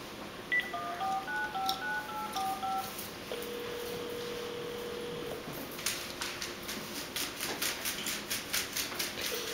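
Telephone keypad tones as someone dials a call to an elderly resident of a Delray Beach retirement community in Florida: a quick run of short beeps, then a long steady tone and a faint rhythmic ringing, set against soft background hiss.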